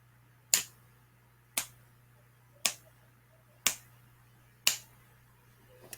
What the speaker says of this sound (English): This time I'm going to snap my fingers